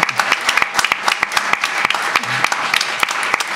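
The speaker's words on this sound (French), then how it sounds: "Mérite bien vos applaudissements, croyez-moi." Audience applause at a French conference closing session, with sharp individual claps standing out in an uneven, moderately loud patter from a smaller crowd, close by and with no talking over it.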